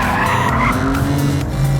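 Car tires screech and skid through a slide on a race track, a loud sustained squeal with steady engine roar underneath, sweeping slightly in pitch as the car drifts.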